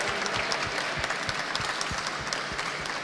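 An audience at a Friday evening event claps in a round of applause, a brisk continuous patter with some individual claps standing out, moderately loud and without speech.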